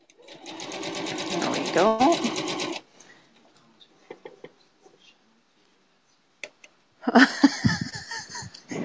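A sewing machine stitches a quilt seam in a steady, close whirring run lasting a few seconds, then stops, and a second stitching burst starts later; a person speaks briefly and there are light handling noises in between.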